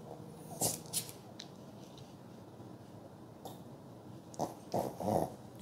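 A Maltese dog with itchy skin gives a few short, soft whimpers and whines during a vet examination, separated by pauses, close by with faint breathing and rustling in between.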